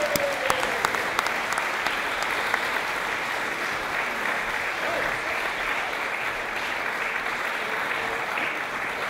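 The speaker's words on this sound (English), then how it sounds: "A round of applause, ladies and gentlemen." An audience claps after a song at an evening event, a dense, even wash of applause that holds steady throughout.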